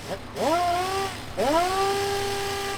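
A handheld power tool used to strip paint from a Chevy Nova is throttled up twice to full speed, each time a rising whine that climbs quickly and then holds a steady high pitch. The sound is close and fairly loud.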